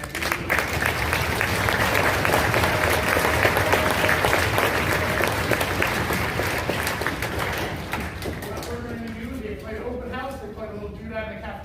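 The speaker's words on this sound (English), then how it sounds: "So a big round of applause for Dr." Audience applauding after a high school chamber orchestra performance in a school cafeteria, dense steady clapping for about eight seconds before fading, with a voice beginning to speak as it dies down.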